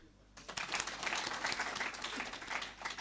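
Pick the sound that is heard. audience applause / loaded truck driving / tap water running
audience applause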